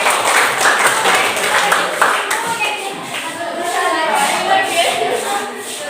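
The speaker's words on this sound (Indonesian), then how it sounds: "Tepuk tangan untuk" A classroom of people clap together in a brisk burst of applause, close and lively, fading slightly toward the end.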